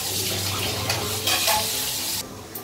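Water boiling in a lidded pot for steaming on a high flame, a loud bubbling hiss with a sharper splashy burst midway, then dropping quieter at the end.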